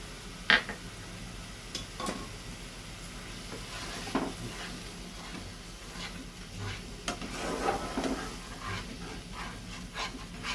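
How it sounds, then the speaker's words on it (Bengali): Soaked spice paste in a pan, stirred while it fries: a quiet, steady sizzle runs throughout, broken by light scrapes and taps of a spoon against the pan. "এবার সব মশলাগুলোকে এক করে ততক্ষণ নাড়তে হবে যতক্ষণ না মশলাটা থেকে সুন্দর একটা স্মেল আসছে"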